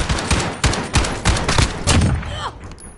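Gunshots in a video game striking an enemy, with a series of sharp loud shots in quick succession followed by a few more, with voices talking around them.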